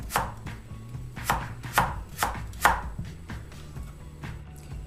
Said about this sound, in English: And then I'm gonna slice some radish.